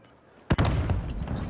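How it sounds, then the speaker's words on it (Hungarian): Airstrike explosions in Warzone Resurgence: a sudden loud blast, then a sustained deep rumbling roar with scattered crackles carrying on to the end. "Itt egy airstrike."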